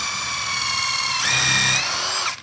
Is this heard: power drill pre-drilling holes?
yes